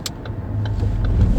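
A manual-transmission car engine lugging at low revs and nearly stalling as the clutch is eased out, a steady low rumble that holds on rather than dying, close and fairly loud with no talk.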